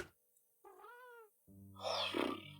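A Minecraft cat meows once clearly, with a harmonic rising-falling call, alone over a quiet game background before other game noise swells in.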